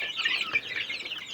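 Young chicks cheep in a cluster of high, thin chirps close by, several overlapping peeps over about a second with no talking.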